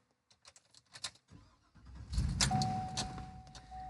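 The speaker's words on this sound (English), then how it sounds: "This really sucks when I start the truck up from cold" A truck engine is started from cold: a few faint clicks and rattles, then the starter catches and the engine fires into a steady rumbling idle, accompanied by a thin electrical whine.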